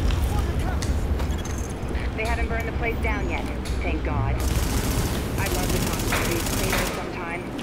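Gunfire in Tom Clancy's The Division on PS4, sustained rapid automatic fire with scattered impacts and crackles, a voice talking over it throughout.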